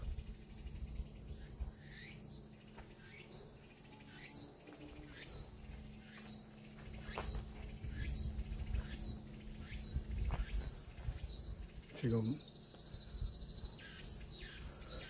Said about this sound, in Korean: 매미 소리가 고슬프게 울고 있습니다